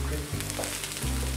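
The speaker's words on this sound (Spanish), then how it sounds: "vamos a agregar los 2 paquetes de la Beyond. La voy a deshacer muy bien y voy a dejar que quede un poquito doradita" Beyond plant-based meat crumbles frying and browning in a pan for a vegan Christmas lasagna, a steady close sizzle with soft stirring and scraping, briefly dipping near the start.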